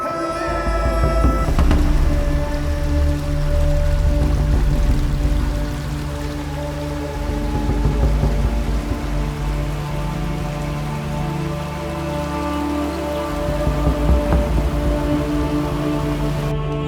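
Small stream below a hillside path near Kuttikanam and Elappara, a continuous, fairly loud rush of flowing water with no talking.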